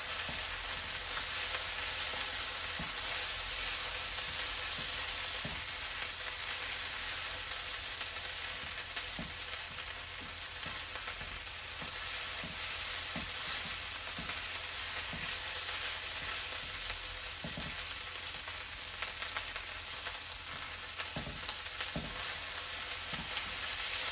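Fried rice sizzles steadily in a hot pan as soy sauce is added, a constant bright hiss with occasional scrapes and stirring taps throughout and no talking.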